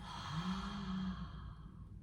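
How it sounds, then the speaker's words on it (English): A single slow breath out through the mouth, close and soft, a gentle airy sigh lasting about two seconds with no talking. "and breathing out through the mouth."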